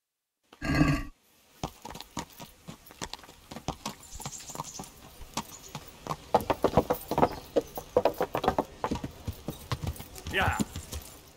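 Horse hooves clip-clopping in the medieval video game Kingdom Come: Deliverance, a steady run of fairly close, uneven hoofbeats that builds in density, with a short burst of other noise at the start and a voice talking over them.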